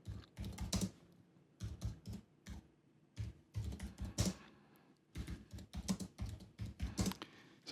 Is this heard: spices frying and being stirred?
no